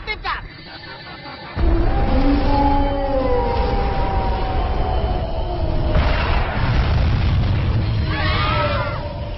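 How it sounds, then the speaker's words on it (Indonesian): An animated ultra wave cannon fires, with a sharp charge-up followed by a loud, sustained roaring blast and rumbling explosion that fills the scene, while rising whistling tones sweep through it. "Tembakan gelombang ultra aktifkan."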